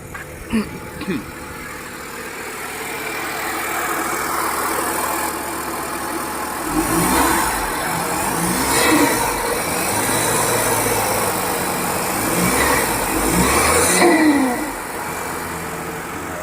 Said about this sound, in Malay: Aircon pun bunyi bising Bising sangat aircon